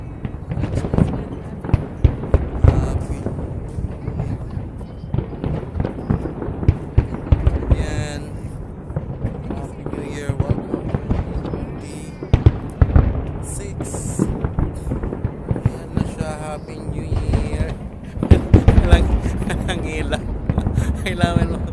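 Fireworks pop and crackle in repeated bursts at a New Year's celebration, some sharp and loud, with people talking and cheering throughout.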